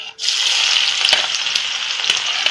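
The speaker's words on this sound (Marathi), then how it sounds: "तेल पण तापत ठेवले, तेल पण तापले। आता आपण कांदा टाकून घेऊया" Onion dropped into hot oil for a traditional shengoli dish, bursting into a loud, bright, continuous sizzle close by, with faint stirring clicks throughout and no voices.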